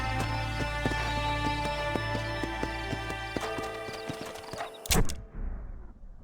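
A horse trots with regular hoof clops and a brief whinny in the Red Dead Redemption video game, set over a steady musical game soundtrack that cuts off abruptly near the end.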